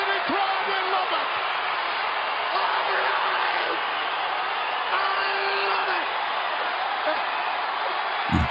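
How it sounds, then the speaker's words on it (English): Capacity wrestling arena crowd at the 1991 Royal Rumble roars loudly and steadily, a dense wall of cheering that swells in places and carries on for the whole stretch. "Crowd going nuts."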